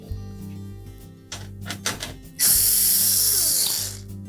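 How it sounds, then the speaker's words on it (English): A power driver with a motor hum and ratcheting clicks backs out quarter-inch hex head screws from the rear access panel of a GE range, then whirs loudly in a final sustained burst. "We'll simply remove the screws that secure the access panel in place."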